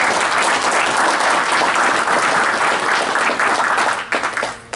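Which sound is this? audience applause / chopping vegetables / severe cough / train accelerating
audience applause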